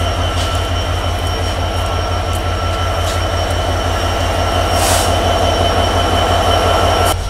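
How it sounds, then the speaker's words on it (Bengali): The Banglabandha Express pulls out of Joypurhat station with a loud, steady rumble and a rhythmic clatter of wheels over rail joints. Faint squeals and hisses rise above it from close by, continuous throughout. "আমাদের ট্রেন ছেড়ে যাচ্ছে জয়পুরহাট স্টেশন থেকে"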